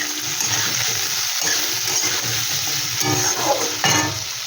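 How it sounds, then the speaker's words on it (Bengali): Cumin seeds and ground spices fry in hot oil in a pan for a soybean dish, a dense continuous sizzle with rhythmic scraping strokes of a spoon stirring through it. "এটাকে একটু ভালো করে আমি ভেজে নেব"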